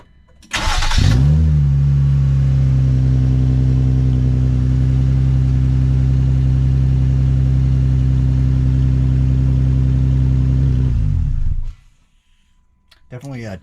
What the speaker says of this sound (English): Definitely tones down the open exhaust a lot more.